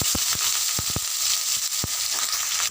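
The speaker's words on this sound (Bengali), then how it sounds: "আমি পেঁয়াজটা কিছুটা ভেজে নিয়েছি" Chopped onion frying in hot oil with cumin and chilli in a kadai, a constant bright sizzle broken by a few sharp spatula knocks and scrapes, close and loud.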